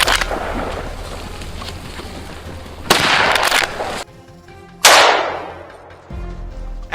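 Two loud, sharp gunshots fired at a charging wild boar on a mountain hunt, each blast followed by a short decaying tail, with rustling and movement between them.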